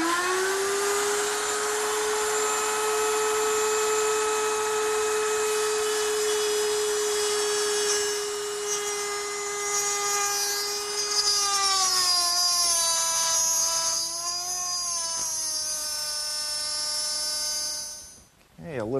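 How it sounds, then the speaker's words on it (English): A router with a small bit plunges into wood for a bedside table, a loud steady high-pitched whine that holds, then dips and wavers in pitch as the cut loads it before cutting off. "I'm going to cut that in 2 passes, about 3/8 of an inch at a time, and that's because this is a small router bit"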